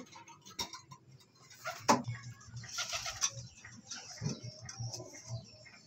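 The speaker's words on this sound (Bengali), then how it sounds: "এই দেখুন এখানে আন্ধ্রা পায়রাগুলো আছে সেল আছে" Andhra pigeons kept for sale at a bird seller's stall coo softly in low, pulsing murmurs, mixed with ticking clicks, a sharp flutter and background bustle, with no one speaking.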